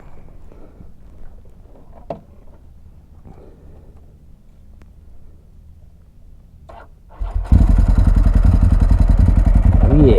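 A motorcycle engine bursts into life after a quiet stretch with a brief spoken exclamation, then roars loudly and steadily right up close for the remaining seconds.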